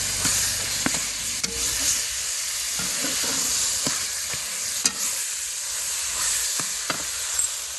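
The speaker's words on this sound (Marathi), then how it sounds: "ही जी पेस्ट केलेली आहे तीही या कांदा टोमॅटोत परतून घेतलेली आहे" Onion-tomato masala paste for a Bombil (Bombay duck) masala fries in a pan with a constant close sizzle, while a spoon scrapes and stirs in irregular clicks and knocks.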